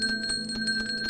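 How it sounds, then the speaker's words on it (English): In Untitled Goose Game, a bell carried along by the goose's movements rings with rapid, repeated bright metallic dings in a steady jangling rhythm, close and continuous with no talk. "The bell continues to ring from the goose's movements."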